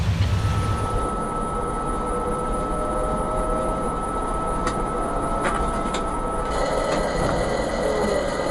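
A Norfolk Southern train rolls past with a loud, steady rumble of wheels and cars that holds for the whole stretch, with a few sharp clanks near the end and no voices.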